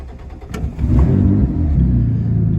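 An Audi RS5 engine, reluctant to run while cold, cranks with a brief click and then catches into a loud, close, rumbling idle that is held up with throttle, a steady deep roar to the end.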